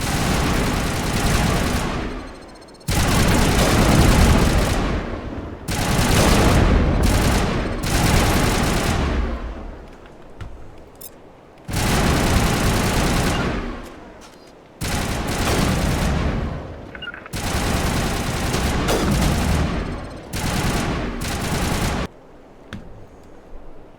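Heavy crossfire in a video game battle on Virmire, dense bursts of rapid gunfire and booms rolling in long loud waves separated by brief lulls, with no voices.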